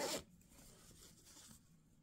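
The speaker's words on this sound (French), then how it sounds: "Et quand je tourne la fermeture éclair" A skirt's zipper is handled during an alteration, giving one quick, bright zip at the start followed by faint rubbing and handling noises, close and quiet.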